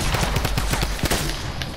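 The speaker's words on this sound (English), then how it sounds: "Literally, I kept on hitting him with my freaking pump." Rapid shotgun blasts from a pump shotgun in a battle-royale style video game, a dense run of loud close shots packed into under two seconds with no talk over them.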